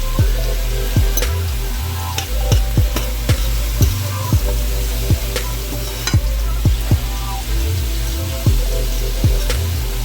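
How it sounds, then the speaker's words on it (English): Onions sautéing in a pan until limp, a steady loud sizzle and crackle with scattered pops throughout, close up with no talk. "the onions cooking, and they getting limp here, like I want them to"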